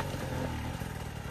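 Enduro motorcycle ridden on hard enduro terrain in Liguria, its engine a steady close-up drone with small revving fluctuations and faint clatter, continuous and fairly loud with no talk.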